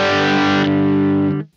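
Electric guitar played through an amp on its humbucker pickup with top boost, in a worship-ministry rig: a single loud, distorted, chorus-tinged chord rings out alone for over a second, then cuts off cleanly.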